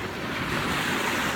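Sea waves wash steadily against a rocky shore, a continuous broadband roar mixed with wind buffeting the microphone, with no speech.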